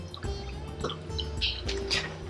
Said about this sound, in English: And then I'm going to put some rose water on.